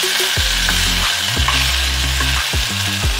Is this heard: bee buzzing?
no